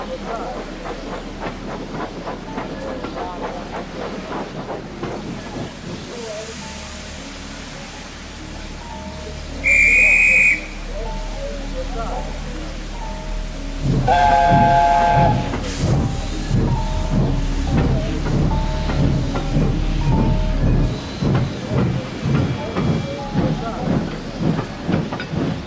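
A steam locomotive hauls express coaches with rhythmic chuffing and clattering wheels, loud and close, while a high whistle sounds briefly twice; voices and music play over the running train throughout.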